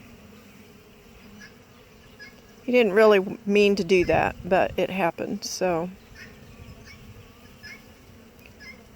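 Honey bees from an open hive hum during a brood inspection, a soft steady drone running throughout while someone talks loudly over it for a few seconds in the middle.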